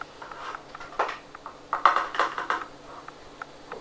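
Priming sugar being stirred into Christmas ale before bottling: a spoon clinks and scrapes around inside a brewing vessel in quick irregular strokes, close and moderately loud, with no voices.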